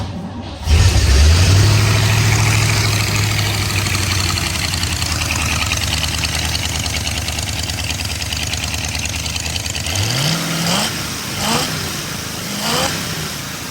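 A 1942 Jeep engine cranks and catches at the ignition switch, then settles into a steady, rumbling idle close by, with a few brief revs near the end.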